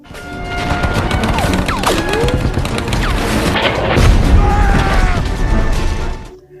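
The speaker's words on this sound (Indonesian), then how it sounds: "Tapi tiba-tiba Red terkena ledakan yang membuatnya terluka parah." Loud, chaotic battle noise with booms and bursts of gunfire, rumbling explosions and whistling debris layered over each other, fading out at the end.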